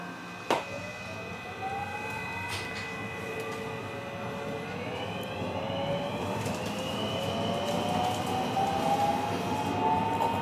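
A train rolls into Shinhikidai station in the Hokuriku region of Japan, ahead of a loop line, with a rising metallic squeal and rumble over steady background noise, a single sharp clank near the start.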